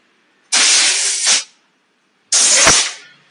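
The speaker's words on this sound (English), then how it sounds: "You need to have high compressed air." Two bursts of high-pressure compressed air from a compressor nozzle blast against a motorcycle clutch-side grip sleeve, each loud broadband hiss lasting about a second, separated by a pause, the second ending with a brief tonal whistle.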